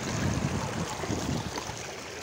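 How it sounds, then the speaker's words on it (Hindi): Irrigation water running into a farm field, a steady, close rushing and gurgling flow, fairly faint and continuous over a couple of seconds with no voices. "और जा रहा है हमारे खेत की तरफ पानी पूरा।"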